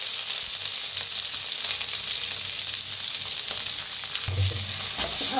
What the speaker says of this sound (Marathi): 1 चमचाभर मोहरी टाकलेली आहे। कढीपत्ता आणि जे वाटण बनवून घेतलं होतं ते